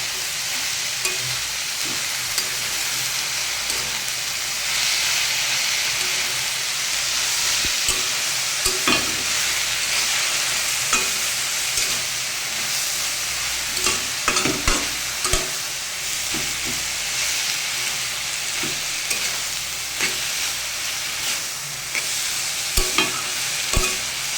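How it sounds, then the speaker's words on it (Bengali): Banana flower and vegetables fry steadily in a pan with a constant sizzle, while a spoon scrapes and stirs through them in intermittent clicks close by. "আর দেব লবণ এবার এটাকে ভালোভাবে মিশিয়ে নেব"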